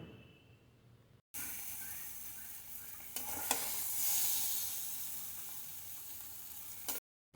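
Beans with turmeric fry in a pan while being stirred: a continuous close sizzle with scraping stirs, beginning suddenly after a quiet start and stopping abruptly near the end.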